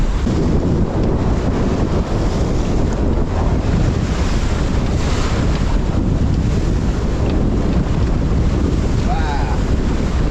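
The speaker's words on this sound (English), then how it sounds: "It's quite windy, got about 25 knots." Strong wind of about 25 knots roaring steadily across the microphone aboard a sailboat beating upwind at sea, with rushing water and waves underneath and no break in the noise.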